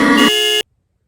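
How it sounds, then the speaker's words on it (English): A loud electronic censor beep, a single steady tone that holds for just over half a second, shifts pitch midway and cuts off abruptly into silence. "I'm gonna have to beep that out."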